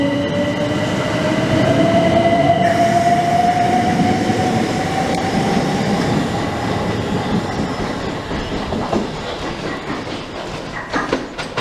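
Class 375 passenger trains 375714 and 715 pull out of Grove Park station, a rising motor whine over rumbling wheels and rail clatter that fades as they leave, with no voices.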